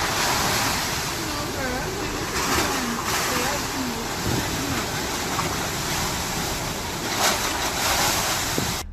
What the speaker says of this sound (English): Take notice of the wind and rush of the waves.